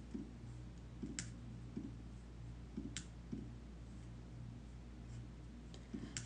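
Soft, faint keystrokes on a computer keyboard tick at an irregular pace over a steady low hum, with no one speaking.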